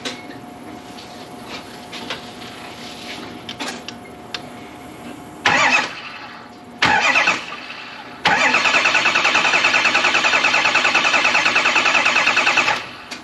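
Ford 6.0 Powerstroke diesel engine recovering from hydrolock, cranking over on its starter in short bursts: two brief cranks, then a long, loud, steady churning crank for several seconds before stopping, close under the hood.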